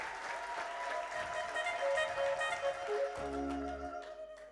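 Church congregation applauding together, a steady wash of many hands clapping close and fairly loud, with a sustained musical tone and a low hum entering near the end.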